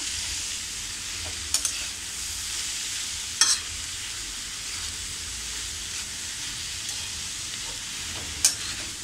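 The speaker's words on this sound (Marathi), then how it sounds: "आणि ही सुद्धा आपण अशी व्यवस्थित ढवळून घेऊया." Grated radish and fresh coconut stir-fried in a pan over a low flame give off a steady, soft sizzle and hiss, with a few brief spatula scrapes and no talking.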